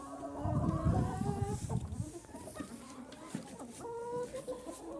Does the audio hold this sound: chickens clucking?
yes